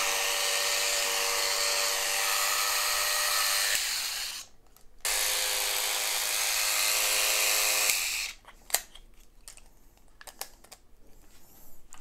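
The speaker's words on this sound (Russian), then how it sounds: "Вот такая вот бритва Агидель 3 из СССР." A Soviet Agidel-3 electric shaver hums close up with a loud, steady buzz. It cuts out briefly in the middle, restarts, then stops, leaving scattered handling clicks and knocks.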